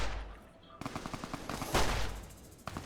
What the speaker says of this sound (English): 10mm submachine gun